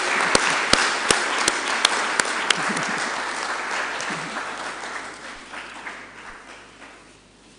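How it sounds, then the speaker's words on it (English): Lecture hall audience applauding at an inaugural university lecture, loud dense clapping with a few sharp close claps, gradually thinning and fading toward the end. "let's give a round of applause for"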